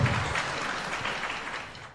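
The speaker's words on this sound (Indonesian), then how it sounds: "Ya, kita kasih tepuk tangan." A church congregation at a Christmas service applauds briefly, a soft, fairly distant patter of clapping that fades over two seconds.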